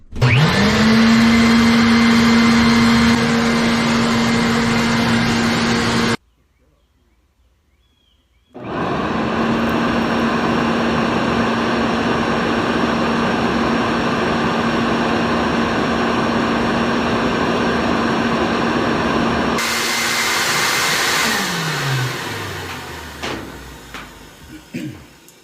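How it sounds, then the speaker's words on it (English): A dryer vent cleaning blower runs with a loud, steady high whine and motor roar, cuts out briefly for a couple of seconds, then starts again and hums for a long stretch before winding down with a falling pitch and clunks near the end. "So unplug the blower."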